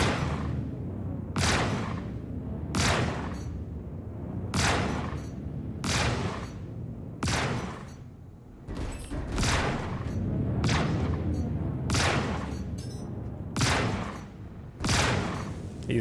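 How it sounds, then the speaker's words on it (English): Gunfire in the video game Star Citizen, loud repeated bursts of shots aboard a ship, about a dozen sharp blasts in a steady rhythm with booming low-end thuds, heard close and alone without talk. "He's shooting through the whole ship."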